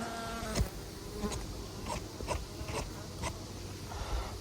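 Bees around an open beehive buzz steadily close by, with several brief louder passes of insects flying near, and no talking.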